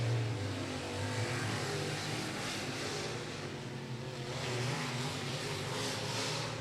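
Race cars firing up for qualifying at Beckley Motor Speedway, engines idling and rumbling in a continuous low drone with slight revs and swells.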